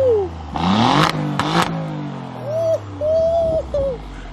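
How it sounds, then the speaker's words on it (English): A sports car engine revs hard with its exhaust opened, giving two sharp, loud bursts early on and then whistling, hooting tones that trail off. "Open up the exhaust system."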